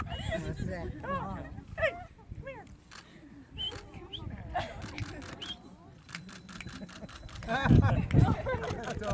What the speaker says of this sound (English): Is that Cayla's dog?